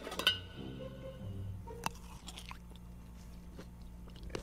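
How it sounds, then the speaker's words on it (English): Canned food being eaten straight from the can in a horror video game, with a sharp clink near the start, then soft crunchy, wet chewing and biting under low background hum. "You just eating it straight out the can like that?"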